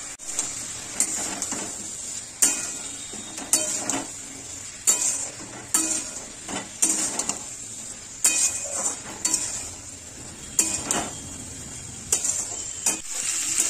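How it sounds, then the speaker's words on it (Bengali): Mixed vegetables are stirred in a sizzling pan, with repeated scraping strokes of a utensil against the metal at a fairly regular rhythm over a steady hiss of frying, close and clear with no voices. "এবার ঢাকাটা খুলে একটু নাড়াচাড়া করে নেব"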